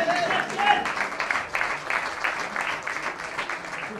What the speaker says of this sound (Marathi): जोरदार टाळ्या वाजवून आपला आनंद व्यक्त करावा